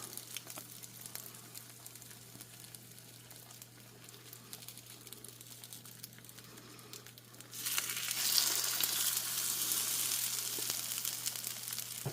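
French toast and bacon frying in a pan, a quiet crackling sizzle that suddenly swells louder and denser partway through and continues steadily, with no talking.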